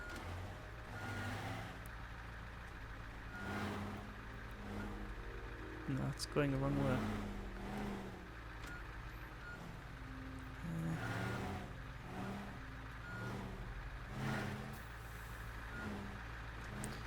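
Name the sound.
truck reversing beeps in video game Teardown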